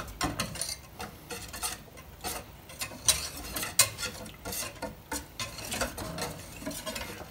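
Tempura batter is stirred in a bowl with quick, uneven scraping and tapping strokes, a steady run of close utensil clatter with no talking.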